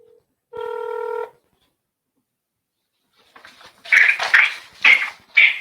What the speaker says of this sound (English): Let me try and get Ola on the phone at least.